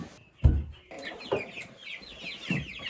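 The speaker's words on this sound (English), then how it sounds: "And then the smaller roosters are here. And these are from our own chickens." Barnevelder chickens and smaller roosters cluck continuously inside a farm coop, close and fairly loud, with a sharp thump near the start and no talking.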